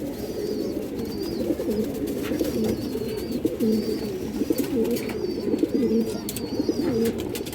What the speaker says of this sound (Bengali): একটা মাদি কৌতার আছে অনেক বড় সাইজের